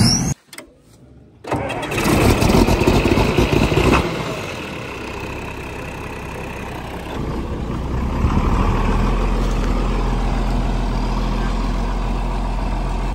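A tractor engine turns over, then runs loud and steady close by for the rest of the stretch. The tone is rough and mid-pitched, with no talk over it.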